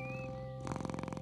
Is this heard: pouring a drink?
no